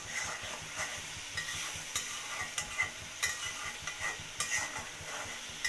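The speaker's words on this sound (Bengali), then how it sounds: "মশলাটা কষানো হলে আমি মাছের মাথাগুলো দিয়ে দিব ডাল সহ পরে আরও কষাবো" Masala being stir-fried in a pan with rohu fish heads and mung dal, a steady sizzle broken by repeated sharp scrapes and clinks of a spatula against the pot, close and continuous.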